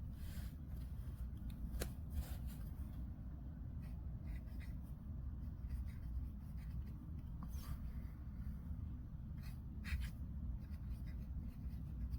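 A modified Pilot Falcon fountain pen with a 14 karat gold nib, originally soft fine, scratches and glides across paper up close, giving quiet, intermittent strokes with brief pauses and no talk.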